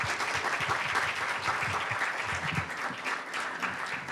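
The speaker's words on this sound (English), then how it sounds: "please welcome and have a very big applause" An audience at a masterclass gives strong, sustained applause to welcome the jury president, a dense continuous wash of many hands clapping with no speech over it.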